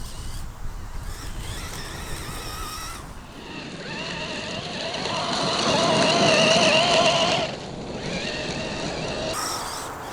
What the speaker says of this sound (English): the track in my backyard, which is just perfect for driving vintage RC cars